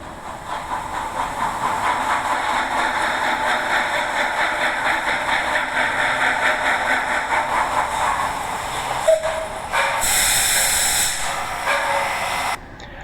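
A train rumbles past with a steady rhythmic clatter and hiss, ending in a loud burst of hissing air.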